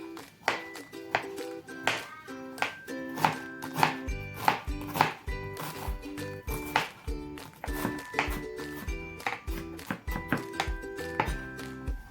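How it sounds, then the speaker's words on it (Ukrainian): Rapid knife chops dicing cucumbers and onion on a cutting board, a steady run of sharp thuds under light music, close and fairly loud. "Огірки і цибулі я нарізаю кубиком."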